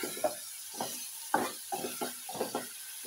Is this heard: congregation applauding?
no